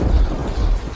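Thunder rumbles heavily over steady rain in a Hindi animated cartoon story, a deep, loud, rolling roar that fills the whole second with no voices.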